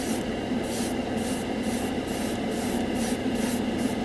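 An airbrush laying a light coat of acrylic paint onto a scale model from two to three inches away: a continuous close hiss of air with a faint regular pulsing, no voices.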